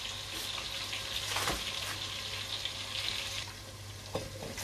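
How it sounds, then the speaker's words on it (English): Onions fry in palm oil for a Nigerian stew, giving a steady, close sizzle with brief scraping stir sounds and no voices. "After frying my onions for 2 minutes"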